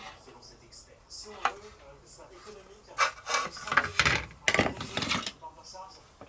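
Sanding a part of a 1/12 Tamiya Porsche 934 model by hand, scratchy rubbing strokes in uneven bursts, growing louder midway, close up, with someone speaking at moments.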